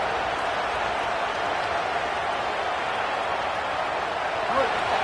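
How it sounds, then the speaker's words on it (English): Crowd noise fills a football stadium during a game, a broad steady roar of cheering held at an even level throughout, distant and without clear breaks. "This crowd bringing the energy and noise early"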